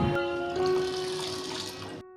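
Tap water runs steadily into a pot of washed toor dal set to soak, a continuous close splashing pour with a steady tone that stops abruptly near the end.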